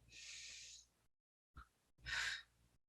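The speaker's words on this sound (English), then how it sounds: "Good, one more full breath in" Deep, slow breaths during a gentle chest stretch at a fitness class: a long exhale, a brief pause, a short sniff, then a fuller, louder breath, close and clear with no talking.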